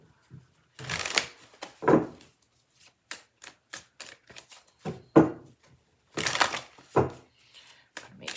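Tarot cards being shuffled by hand in quick, crisp bursts of riffling and flicking, close and clear, with pauses between shuffles and no talking.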